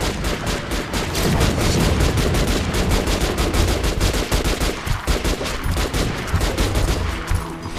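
Dense, continuous automatic gunfire from the Metro: Last Light video game, with rapid overlapping bursts and shots firing without pause for several seconds, loud and close, with no talking.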